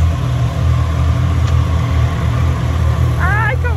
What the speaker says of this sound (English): That is a triple engine with a 3-to-1 underslung exhaust.